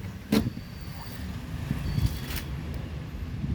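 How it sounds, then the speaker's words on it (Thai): A car's manual handbrake is pulled up inside a quiet cabin, giving a brief mechanical click and ratchet over a low steady hum. "ดึงเบรกมือขึ้น"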